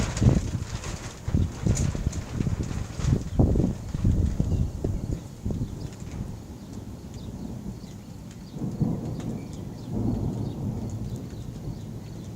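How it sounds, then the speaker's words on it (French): Thunder rumbling in a strong thunderstorm with heavy wind gusts, low broadband rolls swelling and fading repeatedly over wind noise outdoors, with no voice heard. "Ah, ça tonne, hein."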